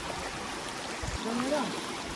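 A small stream rushes steadily in the open air where people are fishing, with a continuous close watery hiss and a voice briefly heard over it.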